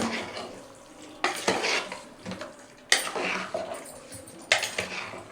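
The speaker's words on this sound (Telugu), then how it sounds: "మొత్తం కలదిప్పుకుందాం ఒకసారి" Country chicken curry is stirred in a pot, a utensil scraping and clanking against the metal in three distinct bursts over a faint sizzle, close and moderately loud, with no speech.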